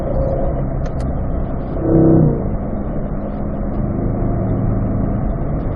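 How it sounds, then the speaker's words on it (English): On a race track, a car climbs a hill as its engine is gently rolled onto the throttle, giving a steady close drone that briefly swells louder partway through, with no talk over it. "We start to roll on the throttle just a little bit up the hill"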